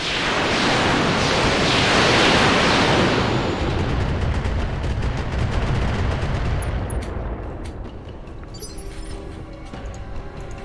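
Missiles fire in a RogueTech BattleTech mod battle, a loud dense barrage of launches and blasts that swells early, then thins into scattered bursts and crackles as it fades toward the end.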